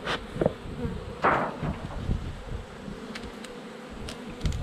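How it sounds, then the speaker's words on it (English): Honey bees swarm and buzz around the top of a hive during a honey harvest, a steady close insect drone with individual bees whizzing past now and then. "There's quite a few bees right on top here."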